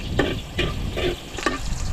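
Ginger sautéing in a pan, a close steady sizzle with four rhythmic scraping stirs of a spatula, no voices.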